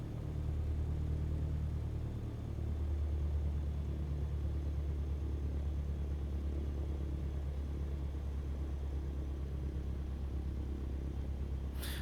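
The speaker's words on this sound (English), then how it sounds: "Ignition. Ignition. Throttle, 1000 RPM." Light aircraft piston engine in Microsoft Flight Simulator VR, just started and idling at 1000 RPM, a steady low drone and rumble heard alone throughout.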